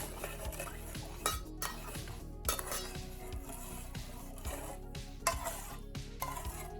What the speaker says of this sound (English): Add 1 cup of boiling water, which is about 250 milliliters, and stir well.